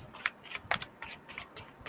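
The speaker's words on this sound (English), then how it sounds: "I know you guys can hear me shuffling it." A deck of tarot cards being shuffled by hand at close range, a quick run of soft riffling slaps and flutters in an uneven rhythm, with no talking.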